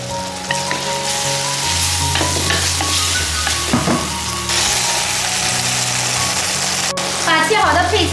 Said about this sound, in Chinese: 在锅里给它翻炒翻炒，翻炒翻炒就可以了